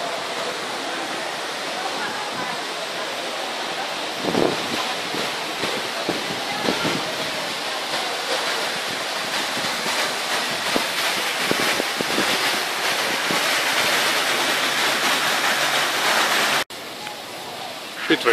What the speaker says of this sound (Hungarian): Itt vagyunk a tengerparton.